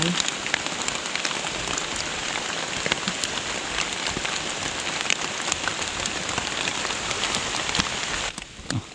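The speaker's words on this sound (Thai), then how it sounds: "ฝนตก" Heavy rain pours down in the mountains, a loud, dense patter of drops striking surfaces close by that runs continuously and drops off abruptly just before the end.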